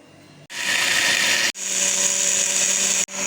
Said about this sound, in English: So now I'm going to grind it now.